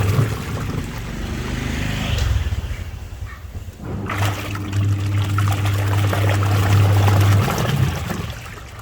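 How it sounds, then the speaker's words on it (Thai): A Samsung washing machine under repair, its wash motor churning water in the drum with a loud steady sloshing rush and a low motor hum, close and continuous. "มอเตอร์ซักมีแรงปั่นน้ำปกตินะครับ"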